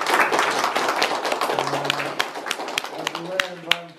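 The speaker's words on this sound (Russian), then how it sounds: "давайте похлопаем" An audience applauds at the opening of an exhibition. Hand-clapping is strong and dense at first, then thins into scattered claps as the applause fades. A voice speaks under it toward the end.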